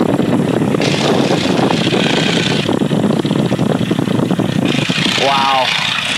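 Vintage 1941 Stearman biplane at takeoff, its radial engine and propeller roaring loud and steady from the open cockpit throughout, with an instructor's voice talking over the drone.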